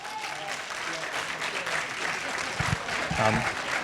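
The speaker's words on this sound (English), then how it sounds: "I think they all deserve another round of applause." Audience at a Tenth District candidates' forum gives another round of applause, steady moderate clapping throughout, with a few louder close hand claps and a brief voice near the end.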